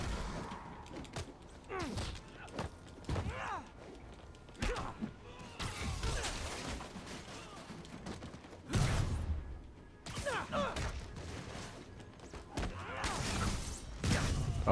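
Explosions and heavy impacts from the PS4 game Marvel's Spider-Man, with repeated loud broadband bursts and thuds amid creaking, clattering combat noise, one big blast near the middle, no speech.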